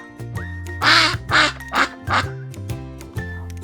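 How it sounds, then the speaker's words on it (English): A cartoon duck quacks several times in a row, loud and close, with clear voiced bursts over a light musical backing; no talking. "The duck says quack, quack, quack."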